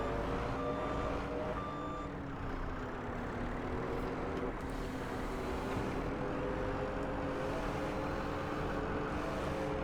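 A log skidder working in the north woods rumbles steadily under load as it drags logs, its engine droning continuously with a brief warning beep early on and occasional clanks over the din.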